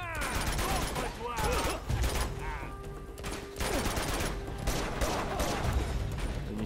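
Gunfire in the Uncharted video game, rapid bursts of shots in clustered volleys over a busy background, with a voice briefly audible in the mix.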